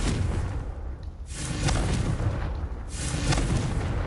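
Confringo fire spell explosions in the Hogwarts Legacy video game: two loud booming blasts with whooshing bursts, roughly a second apart, over a continuous rumbling game soundscape, no talk.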